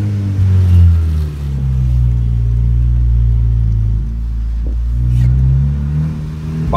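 A VW Jetta TSI 2.0 with an exhaust diffuser, heard from inside the car as a deep, loud, continuous engine rumble that swells and eases slightly with the throttle.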